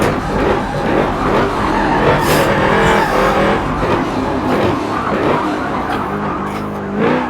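A Porsche race car roars around the Le Mans circuit, a loud, sustained engine wail rising and falling through gear changes with brief tire squeal, close and continuous.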